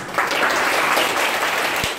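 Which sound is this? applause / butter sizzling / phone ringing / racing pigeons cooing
applause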